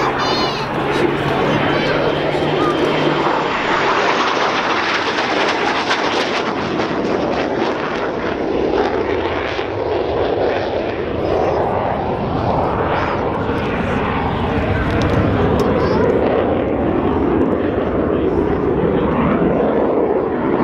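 Hawker Hunter jet flying a display at RNAS Yeovilton Air Day 2014, a loud, continuous roaring engine rush that swells and sweeps as the aircraft passes, with announcer-like voices faintly underneath.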